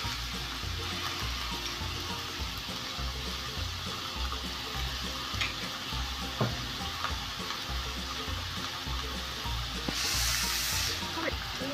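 Tomatoes and chipotle chile frying in a pan while being stirred, giving a steady, moderately quiet sizzle with occasional scraping clicks and a brief brighter hiss near the end.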